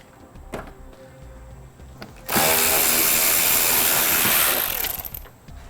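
Power drill backing screws out of the driver's-side fender well of a 2010 Honda CR-V: a few faint clicks, then a loud, close, steady whir for about three seconds before it winds down, with no voices.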